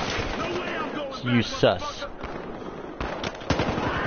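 Gunfire in Battlefield Hardline, a rattle of shots and bursts with a few louder cracks, heard under someone talking.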